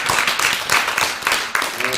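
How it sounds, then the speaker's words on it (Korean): An audience at a public childcare policy forum applauds, a dense, continuous patter of many hands clapping at moderate loudness filling the short moment. "박수 한번 다시 한번 주세요"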